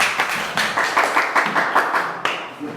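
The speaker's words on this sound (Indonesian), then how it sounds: "aplaus buat semua" A classroom group applauds after a short lesson on fasting rules, with a steady run of close, overlapping hand claps and a few sharper individual claps. The clapping stops abruptly near the end.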